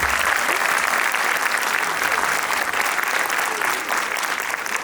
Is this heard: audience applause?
yes